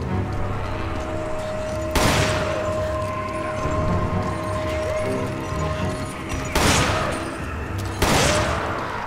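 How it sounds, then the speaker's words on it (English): A magnum revolver fires in Resident Evil 5, three sharp, heavy booming shots spread across the stretch, one early and two close together near the end, over a background of game ambience. "break out the magnum again"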